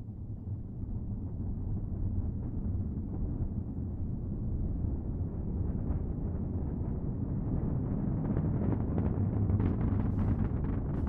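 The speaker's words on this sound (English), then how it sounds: "Let's listen to the roar of those 9 Merlin 1D engines." Nine Merlin 1D engines of a SpaceX Falcon 9 rocket roar steadily during ascent after liftoff from Cape Canaveral, a distant, continuous low rumble with faint crackle that builds slightly toward the end.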